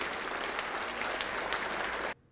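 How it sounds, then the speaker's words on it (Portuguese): Congregation applause at a church service, a dense, steady burst of clapping that stops abruptly after about two seconds. "Vamos aplaudir ao nome de Jesus."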